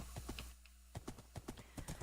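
Horse hooves clip-clop at a steady walking pace in a video game, a regular train of close, distinct knocks with a brief pause partway through and no talk.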